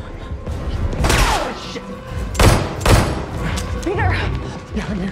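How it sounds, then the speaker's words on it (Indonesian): A few loud gunshot bursts crack out amid a tense action-film shootout, with voices and a busy background in between the shots. "hingga terjadilah aksi tembak-tembakan"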